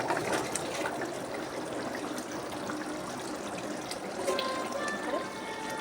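Mutton gravy and potatoes ladled into a pot for homemade mutton biryani, a soft continuous trickle and splash of liquid close by with faint background noise.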